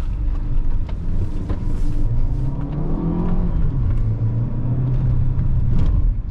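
A 2020 Chery Tiggo 5X with a 1.5 turbo engine and seven-speed dual-clutch gearbox driving, heard from inside the cabin: a steady loud engine and road rumble with a rising and falling engine tone midway.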